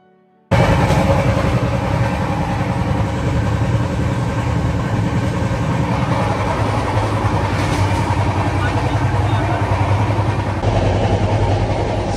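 Steady loud rumble and rattle inside a moving train in India, a constant broadband roar of engine and wheels after a quiet start.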